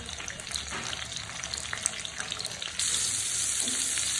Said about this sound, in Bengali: ঢাকনা ছাড়া এমনি এটাকে ভেজে নেব